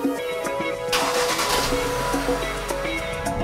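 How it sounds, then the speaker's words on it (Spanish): A Changan CS55 Plus, a 1.5-litre turbocharged four-cylinder with direct injection, starts by remote key: a burst of cranking, then a steady idle that continues throughout. "este carro se puede arrancar desde la llave."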